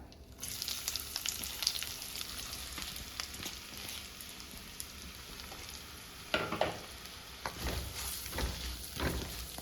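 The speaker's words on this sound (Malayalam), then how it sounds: "എണ്ണ ചൂടായിട്ടുണ്ട് അപ്പം ഞാൻ രണ്ട് മീഡിയം സൈസ് സവോള എടുത്തിട്ടുണ്ട് അത് നമുക്ക് ഈ എണ്ണയിലേക്ക് ഇട്ട് കൊടുക്കാം" Two medium-sized onions dropped into hot oil in a Kerala-style home kitchen, sizzling and crackling steadily up close, with louder bursts of spattering and stirring toward the end.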